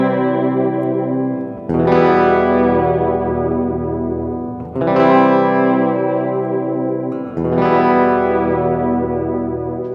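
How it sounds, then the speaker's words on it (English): Three loud, sustained electric guitar chords ring out through a delay pedal, each struck hard and decaying into smeared, repeating echoes before the next strum, with no talking. "my delay pedal is on, and now we have this"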